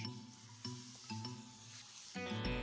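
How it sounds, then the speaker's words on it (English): A pool of boiling soup in the video game West of Loathing bubbles and sizzles softly in a steady simmer, with occasional faint clinks and musical tones behind it and no one talking. "Pool of boiling soup."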